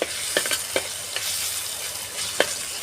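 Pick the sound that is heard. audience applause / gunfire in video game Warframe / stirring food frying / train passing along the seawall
stirring food frying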